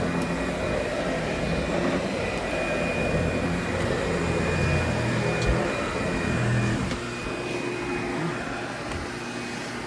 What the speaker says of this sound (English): This feels like I'm doing some normal vacuuming.